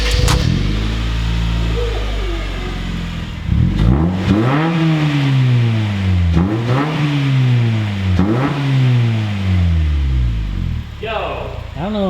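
Car engine revving repeatedly through a new valved muffler with a built-in electric cutout, with several rising and falling revs close by, some overlapping voices.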